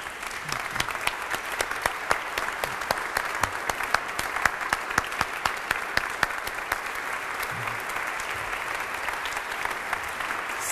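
Sustained, dense applause from a concert audience welcoming cellist Silvia Chiesa and pianist Maurizio Baglini before a Brahms cello sonata, steady and even throughout with no voices over it.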